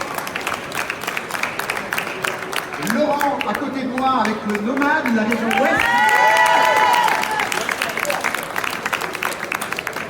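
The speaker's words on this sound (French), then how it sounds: "On l'applaudit très fort." Audience clapping for burger finalists at the French Burger Cup final in Paris runs throughout while an announcer speaks over a microphone. The clapping swells with some cheering in the middle before settling back under the voice.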